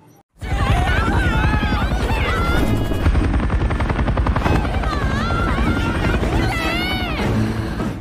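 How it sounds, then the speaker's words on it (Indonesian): A helicopter in a zombie-drama scene drones loudly and continuously with a thick rotor roar, while voices shout over it throughout. "Mereka pun keluar dan berteriak kepada helikopter yang mulai terbang menjauh dari sana."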